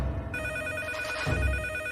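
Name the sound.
telephone ringing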